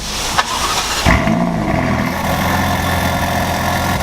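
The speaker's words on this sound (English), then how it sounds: "Here comes the California startup." A Ferrari California T engine fires up with a sharp burst, then settles into a steady, rumbling idle close by, with no talking.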